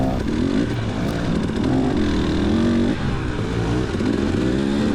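A dirt bike engine, among them a Beta, during a cross-country motocross race lap: a continuous loud engine drone with wavering pitch as the throttle rises and falls, close and unbroken throughout.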